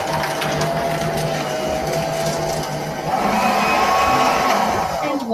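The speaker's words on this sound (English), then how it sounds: "make a neat stack and put into the shredder" Paper shredder chewing through a neat stack of three sheets, a loud steady mechanical whirring grind that shifts pitch partway through as the paper feeds, with no voices.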